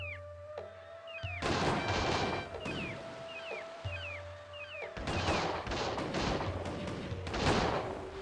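Musket volleys crackle from soldiers in the real-time strategy game Cossacks as two long, dense bursts of gunfire, each a few seconds, with thin game tones and sound effects between them.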